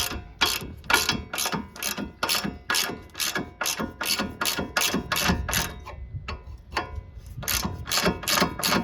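A ratchet wrench loosening 18mm and 15mm sway bar link nuts on a Honda Element, steady rapid clicking in quick repeated bursts, close and loud with no talking.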